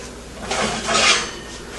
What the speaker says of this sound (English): I'm going to pull the biscuits out of the oven.